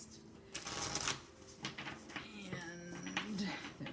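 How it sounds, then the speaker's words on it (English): Rapid riffling of a tarot deck being shuffled, two or three quick bursts of crisp fluttering close by, with faint background noise between. "Okay, so I'm going to go ahead and shuffle the cards."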